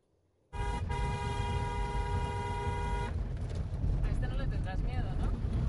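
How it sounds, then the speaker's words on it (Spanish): A vehicle horn, sounded by a mobile shop van in the Basque Country, gives one long steady honk of about two and a half seconds over engine rumble, followed by road noise and chirping from a bird. "Yo toco la bocina y todos los días él canta."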